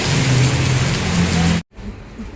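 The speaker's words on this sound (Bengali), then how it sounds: "ভালো বৃষ্টি পড়তেছে।" Heavy rain pours down in a loud, dense, continuous roar, cut off abruptly for a moment near the end before resuming more faintly.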